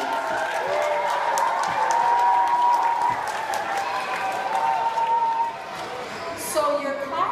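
An audience at a young readers book festival in South Dakota applauds steadily, a sustained wash of many hands over several seconds with a murmur of voices and tonal sound running underneath.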